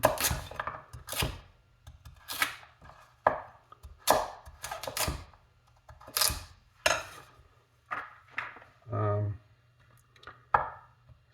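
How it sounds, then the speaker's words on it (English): A heavy 352-gram vintage chef knife cuts a carrot into julienne, each stroke giving a sharp crack against the board in uneven bursts, close and distinct, with someone talking between and over the cuts. "I can easily, even with this knife that cracks the carrot like crazy, complete the cut"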